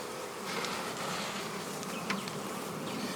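Honey bees buzz steadily and fairly close inside a neglected nuc hive, a dense continuous drone with no talking.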